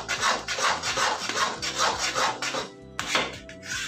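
Chana dal being stirred and roasted in a pan over a medium-low flame, with close, steady scraping strokes that repeat in a quick rhythm and no talking.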